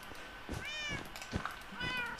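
A cat in the Minecraft video game gives several short, soft meows at intervals. Faint sounds of play surround the calls.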